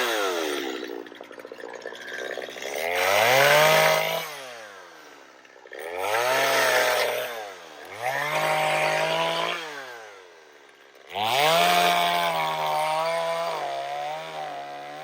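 Chainsaw with a dull chain cutting wood, the engine revving hard and bogging through several cuts and easing to idle between them, loud and close.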